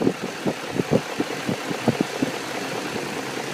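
High-mileage BMW E39 540 V8 idling close by, a steady low rumble with a faintly uneven, pulsing rhythm and no talk over it.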